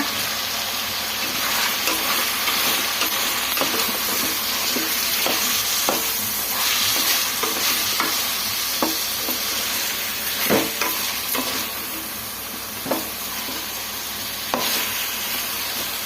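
Chicken with turmeric and spices stir-fried in a pan at home, a steady close sizzle with intermittent scraping stir strokes and clinks of the spoon throughout, no voices.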